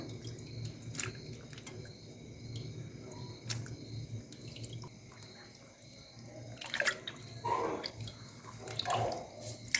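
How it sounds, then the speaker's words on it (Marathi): Water sloshes and drips as potato slices are swished and rinsed in a bowl to remove starch, soft and close, with a few louder splashes near the end. "चार पाच वेळेस आपण धुवून घेतले तर आणि पाणी खूप लागतं याला धुण्यासाठी"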